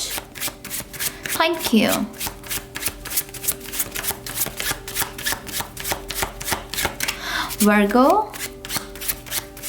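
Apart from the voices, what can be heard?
shuffling cards for a reading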